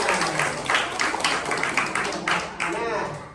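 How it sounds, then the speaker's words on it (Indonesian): Schoolchildren in a classroom clap for a pupil, rhythmic group clapping mixed with voices of children and a teacher talking over it. "Oh bagus, tepuk tangan buat Najimah."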